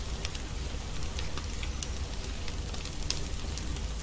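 Steady rain in the survival video game The Forest, a soft, even patter with scattered drop ticks, faint and without talk.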